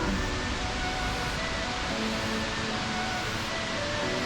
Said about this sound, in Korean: 여기는 관음 폭포입니다.